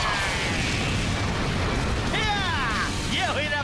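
A Fire Smasher attack explosion from Power Rangers Samurai lands as a dense, loud roar filling the whole clip, with bright whooshing magical sweeps rising and falling near the end.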